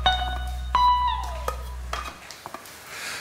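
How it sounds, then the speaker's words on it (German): Metal lid set onto a pot of simmering goulash on the stove: a ringing clank with a decaying metallic tone, followed by a few lighter clicks and taps under a low background hum. "jetzt machen wir den Deckel drauf"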